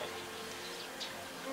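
Honeybees buzz steadily at an open hive being worked for honey, a dense, continuous close-up drone with a few louder passes of individual bees, no voices.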